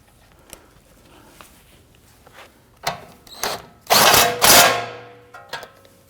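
A power tool drives a control arm nut on a Ford Taurus rear suspension: faint clicks at first, then several loud bursts of whirring and rattling, close by, with short pauses between them.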